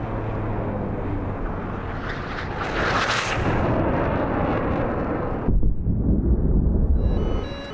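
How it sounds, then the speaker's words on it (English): Explosion in the DCS World flight simulator during F/A-18 Hornet combat defending a fleet, a loud rumbling blast over jet noise that swells in the middle, followed by a sudden heavy low boom. "Oh, another explosion."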